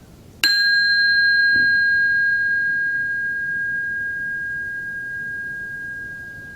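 A single chime is struck once, ringing out with a clear, sustained resonant tone that slowly decays over several seconds, loud and alone with no voices.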